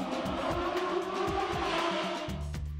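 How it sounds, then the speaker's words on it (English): A race car engine roars past with rising and falling revs and a brief tire squeal, loud and close throughout the short burst with no talking. "Race car."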